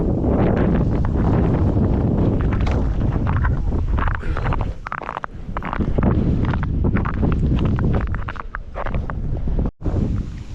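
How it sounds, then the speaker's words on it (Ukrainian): Strong wind buffeting the microphone on a frozen lake during winter ice fishing, a loud continuous roar with gusts rising and falling throughout and a brief drop near the end. "Вітер гуляє капітально."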